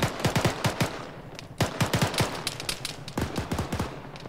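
Enemy automatic gunfire in an ARMA 3 battle, arriving in quick bursts of sharp cracks with a short pause between volleys, sounding moderately distant and loud, with no voices over it.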